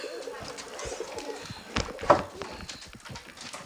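Pigeons in a pigeon loft give soft cooing calls mixed with wing flutters and light scuffling, heard close by beneath someone talking.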